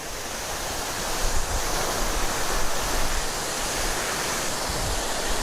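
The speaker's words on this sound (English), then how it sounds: "beautiful fountains" Water splashing steadily in memorial fountains outdoors, a continuous broad rushing wash with slight surges, fairly loud and unbroken, no voices.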